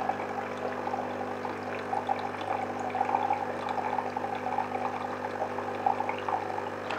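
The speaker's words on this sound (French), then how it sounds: "Elle fait un premier rinçage, hein, ça passe par la buse à eau chaude." A Jura Z6 coffee machine rinses its milk system, hot water running steadily through the hot-water spout with a continuous pouring, trickling flow and a low mechanical hum underneath, close and even throughout.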